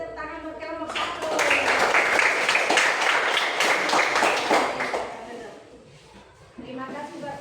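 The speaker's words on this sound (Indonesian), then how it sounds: "tepuk tangan buat kelompok 1." A classroom group of teacher trainees in a Christian religious education course breaks into dense clapping that swells loudly, holds for several seconds, then thins out, with voices heard at the start and end.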